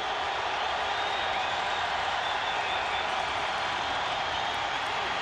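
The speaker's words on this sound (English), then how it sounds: "The crowd is into it here at Mountaineer Field." A football crowd at Mountaineer Field in a 1997 Pitt at West Virginia game roars as a dense, steady wall of cheering and applause that fills the stadium for the whole stretch.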